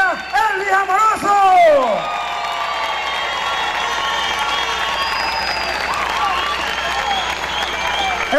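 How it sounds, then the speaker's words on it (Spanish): A big crowd at a political rally in Zamora, Venezuela, applauds and cheers for Elvis Amoroso. Whoops and shouts swell at the start, then steady clapping and cheering carry on, with a loud voice over the crowd. "Vamos a darle un fuerte aplauso a ese hombre que lo ha dado todo en la revolución"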